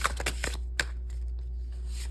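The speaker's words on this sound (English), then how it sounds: "Okay, everyone, I'm ready for the shuffle." Tarot cards being shuffled, a few quick papery riffles and slaps in the first half second, then one more flick and a quiet pause, close and moderately loud with no talking.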